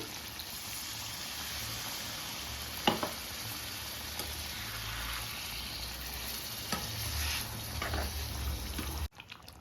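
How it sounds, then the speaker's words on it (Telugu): Steady loud sizzling of a hot pan as water is poured into chicken fry gravy, with a few sharp crackles and clinks. "తగినన్ని నీళ్ళు పోస్తున్నా"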